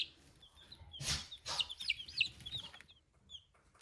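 Young crested chickens cluck and chirp close by, with a few short bursts of clucking and soft peeping calls scattered over a quiet background, no voices.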